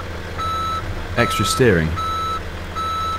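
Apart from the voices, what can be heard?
truck reversing beeps in the video game Farming Simulator 2017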